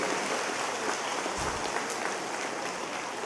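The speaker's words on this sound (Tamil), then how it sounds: "நாம் அனைவரும் கைத்தட்டி அவரை வரவேற்போம்." A hall audience at an auditorium opening ceremony claps to welcome a guest, a steady, even wash of many hands applauding at moderate loudness throughout, with a faint low bump partway through.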